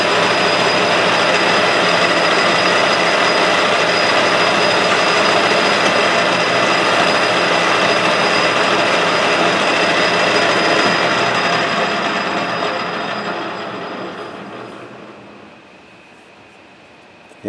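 A machine spins a Hemingway Kit compact rotary broach at higher speed, giving a loud, steady whirring whine with a high squealing edge that holds for several seconds, then winds down and fades to near silence.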